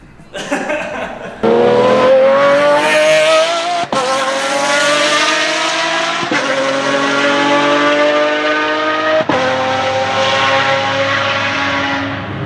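A Mercedes M120-based V12 engine, the kind fitted to a first-generation Pagani Zonda, roars loud and close, climbing in pitch through several runs cut by sharp breaks, like gear shifts at full throttle.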